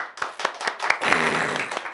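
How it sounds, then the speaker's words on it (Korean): A church congregation clapping together, a few separate claps that quickly swell into a short burst of close, lively applause. "다시 한 번 박수 한번"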